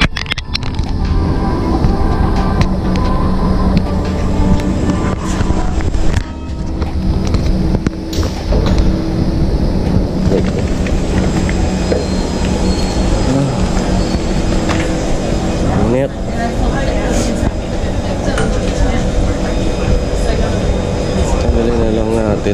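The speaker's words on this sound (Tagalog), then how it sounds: "So yun, kaya tayo last train na to" Loud, continuous rumble and rattle of a train ride aboard the last train out of Paya Lebar in Singapore, with steady wheel and car noise, brief rises and dips, and people talking close by throughout.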